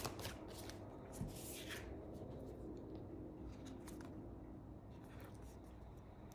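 A deck of horror-themed tarot cards being shuffled, with soft continuous riffling and brushing of card stock, fairly quiet and close with a low steady background.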